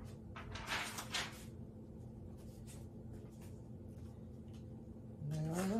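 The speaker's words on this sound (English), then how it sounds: "Pull out my drawer." A heat press drawer is pulled out after sublimating a two-sided garden flag, with soft sliding and scraping, a few light knocks, and a louder rising scrape near the end.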